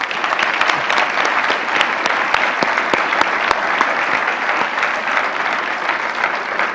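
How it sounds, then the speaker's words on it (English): Sustained, loud applause from an audience at a university forum for Dr. John Lennox, a dense steady clatter of many hands running throughout without pause. "can we just give one more round of applause for Dr."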